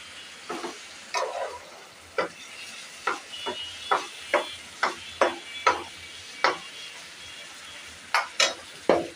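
Medium-sized shrimp frying in a pan for a Bengali kochur loti curry, a soft sizzle under a series of sharp, regular scraping stirs, close up and without speech.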